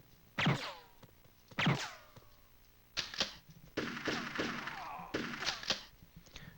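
Sniper rifle shots in the N64 game Army Men Sarge's Heroes: several sharp, loud cracks with short ringing tails, spaced a second or so apart, then a busier cluster of quick reports, with no voices.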